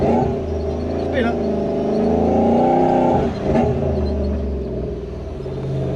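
A supercharged 1UZ V8 in a Toyota Hilux rumbles loudly at a steady idle, with a brief dip and a couple of pops partway through, a voice speaking over it.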